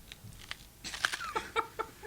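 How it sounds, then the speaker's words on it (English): A whole pineapple being eaten, with close, crisp crunching bites and wet chewing coming in uneven bursts, louder toward the end, with no talk over it. "Can we hear crunching sounds?"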